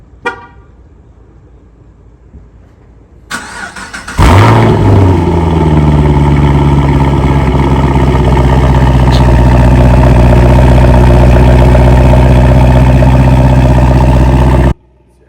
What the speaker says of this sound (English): Let me give you guys a little cold start.